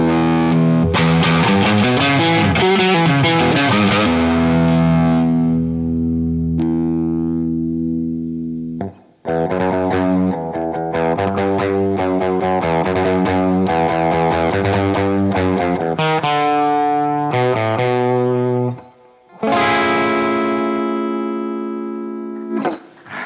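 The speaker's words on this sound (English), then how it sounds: "this guitar is pretty well balanced. I like the sound of that." Electric guitar played through effects, sustained distorted chords and melodic phrases ringing loud and close, with brief pauses between passages.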